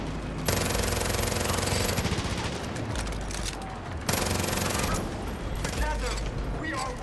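Sustained automatic gunfire from the video game Far Cry 5 rattles in dense, loud bursts that barely let up, with a brief break around the middle before the shooting resumes.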